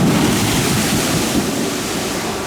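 Log flume boat on the American Plunge ride at Silver Dollar City surging through a big wave, a steady broad rush of churning water and wind noise filling the whole moment, loud and close.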